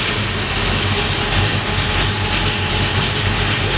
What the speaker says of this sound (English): you gotta hear this car run